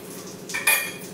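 A set dosa is poured and cooked on a pan in a home kitchen. A metal utensil gives a short clatter and a brighter clink against the pan over a faint sizzle, with no talking.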